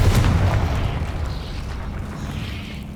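The Confringo fire spell in Hogwarts Legacy detonates with a deep boom at the start, followed by a fading rumbling, crackling tail over a few seconds, no voices present.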